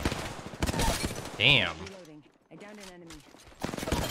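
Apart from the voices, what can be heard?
gunshots from the video game Apex Legends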